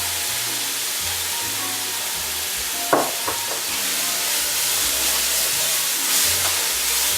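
Spices frying in hot oil for a chicken curry, a steady loud sizzle and hiss with a few stirring clicks as they are tossed into the pan, no talking.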